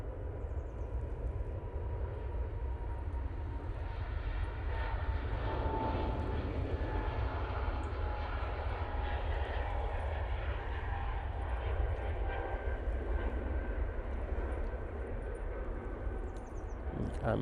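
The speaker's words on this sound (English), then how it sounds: "planes don't tend to spool up like that on the taxiway" Airliner engines spool up on a taxiway at Manchester Airport in a sustained rumbling roar with whining tones running through it, held at a steady, moderate level throughout.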